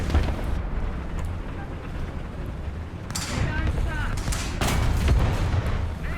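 Tank cannon fire in the War Thunder video game plays as loud booming shots over rumbling battle noise, with a sharper blast near the middle and more bursts toward the end, while someone talks throughout.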